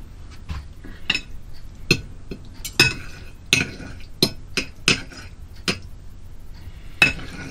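A fork or knife chops vegetarian spaghetti bolognese against a plate aboard a narrowboat, giving irregular light clinks and taps, close and fairly quiet, spaced through several seconds.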